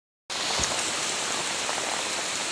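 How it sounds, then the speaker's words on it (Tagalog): Heavy rain in a rural province pours down in a dense, steady hiss that begins abruptly and stays loud and close throughout. "Guys, malakas talagang ulan."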